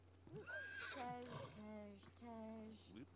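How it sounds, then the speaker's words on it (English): Horses whinny in The Sims 3, a rising and falling neigh followed by a second long whinny, fairly close and clear over a low steady hum. "Look at all these horses just running around rampant."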